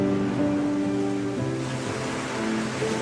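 Ocean waves at the seaside wash in a continuous, even surf rush, with soft sustained musical tones drifting over them and no speech.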